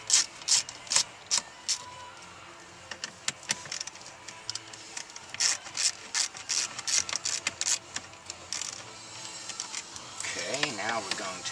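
Ratcheting clicks from a screwdriver or ratchet backing out screws on the dashboard stereo of a Hyundai Tucson, quick rhythmic bursts of close ticking with a brief rustle at the end.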